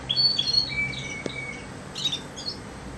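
Agate opal mosaic canaries sing in a bird room, with thin, bright chirps, trills and short whistled notes in scattered bursts over a low background hiss, close and moderately loud.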